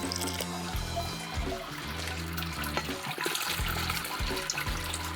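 Sparge water pours steadily into a homebrew mash tun while brewing a mango wheat beer, a continuous close rushing and splashing flow with no talking.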